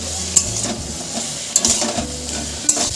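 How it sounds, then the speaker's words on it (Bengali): Potatoes being stir-fried with salt and turmeric in a pan, a soft steady sizzle broken by several sharp scrapes and clinks of the spatula against the metal, close and without talk. "এবার আলুটা ভালো করে নুন আর হলুদের সাথে একটু কাল ধরে কষিয়ে নেব।"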